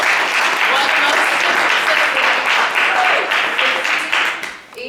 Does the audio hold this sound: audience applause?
yes